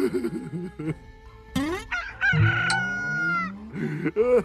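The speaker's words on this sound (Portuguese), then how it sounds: "Quando ouviu o galo cantar, ele chorou amargamente." A rooster crows loudly and close in a children's animated Christmas story of Jesus' birth, a couple of harsh calls with clucking fowl sounds around them and no talk.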